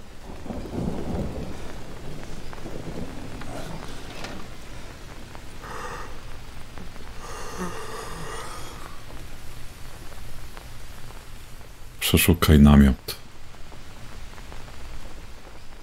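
Thunderstorm with rain in the jungle survival game Green Hell: a steady hiss of rainfall throughout, rumbles building midway, and one loud, close thunder crack near the end; a voice speaks briefly.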